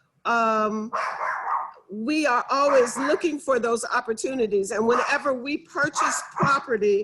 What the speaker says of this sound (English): I am so sorry about my dog.